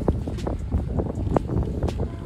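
Gusty wind on a golf course buffets the microphone in uneven rumbling bursts, loud and close, with no voices.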